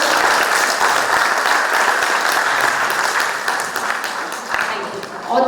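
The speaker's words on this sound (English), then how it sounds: "can we again have a big round of applause for him?" A conference audience at a nutrition medical education event in a Bengaluru hotel applauds a speaker with steady, dense, loud clapping that fills the room throughout and eases slightly near the end.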